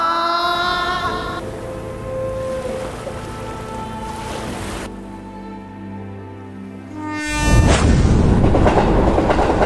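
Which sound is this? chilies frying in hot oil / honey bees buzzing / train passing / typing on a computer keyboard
train passing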